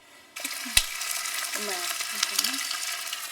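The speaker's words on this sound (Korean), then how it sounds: "감자를 얇게 썰어 꽃잎처럼 포개 구우면 완성이다" Thinly sliced potatoes, layered like petals, fry in a pan with a steady close sizzle that starts abruptly, cut by a sharp utensil tap early on, with faint vocal murmurs underneath.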